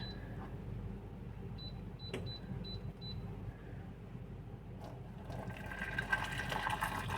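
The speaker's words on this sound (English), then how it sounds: "I got some water pre-boiled over here. I'm gonna pour it in and turn this on." Pre-boiled water is poured in while making Somali tea, a quiet trickle and splash under faint background hum that thickens into a louder, fuller pour toward the end, with a few small clicks early on.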